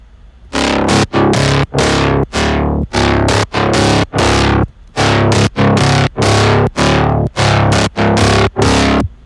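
A gritty, distorted midtempo bass synth built in Serum pulses in loud, evenly spaced stabs with a filter sweep on each hit, about sixteen bursts separated by short gaps, with no voices.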